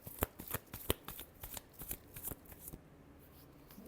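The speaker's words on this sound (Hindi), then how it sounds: "Last shuffle." A deck of tarot cards is shuffled close by in a quick series of crisp riffling bursts, then the handling falls quiet.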